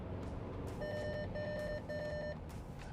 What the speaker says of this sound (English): that was a pre-collision warning because I was catching Nicky a little bit too quickly